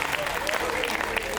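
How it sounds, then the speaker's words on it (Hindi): A comedy show audience applauds in dense, steady clapping, with a performer's voice calling out over it. "हाथ खड़े करके बजाओ जरा तालियां,"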